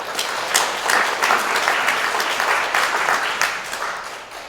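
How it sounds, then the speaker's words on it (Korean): A congregation at an Anglican church in Yeongdeungpo claps during a Pentecost Eucharist service, a full, sustained burst of hand-clapping from many people that fills the room for several seconds. "위에서 박수 한번 주시죠."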